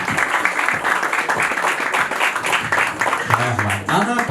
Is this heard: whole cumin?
no